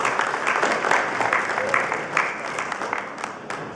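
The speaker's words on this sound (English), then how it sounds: "Give him a round of applause." An audience at IDCEE 2013 applauds a presenter at a startup pitch event, a steady burst of crowd clapping throughout, with a voice faintly over it.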